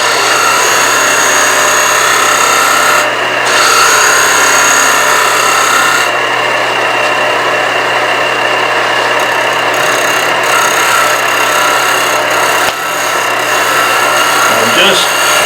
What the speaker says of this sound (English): I'm just scraping across that edge to make sure it's running true